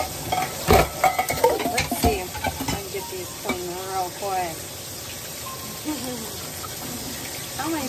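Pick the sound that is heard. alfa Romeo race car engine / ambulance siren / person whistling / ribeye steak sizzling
ribeye steak sizzling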